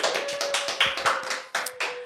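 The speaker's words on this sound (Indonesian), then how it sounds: "Boleh kita minta tepuk tangannya untuk Pak Dede." A short burst of studio audience clapping for a guest on an Indonesian podcast: quick, close hand claps, a few overlapping, with no talking.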